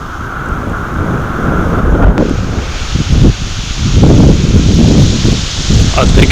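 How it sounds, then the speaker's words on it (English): Strong wind gusts over a riverbank on a fishing trip before rain, a steady buffeting roar with rustling swells that rise and fall, loud and close to the microphone; no talk. "It's getting pretty windy and cooled down a hell of a lot."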